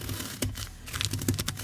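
Cornstarch powder in a sealed plastic bag, pressed by hand, gives a soft, dense crunching and squeaking that crackles irregularly through the short stretch, close and moderately quiet with no voices.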